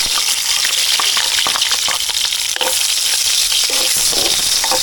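Chili and garlic hit a little cooking oil for a coconut-milk fish dish and sizzle loudly and steadily, with a dense frying hiss and a few faint clinks of a utensil stirring the pan.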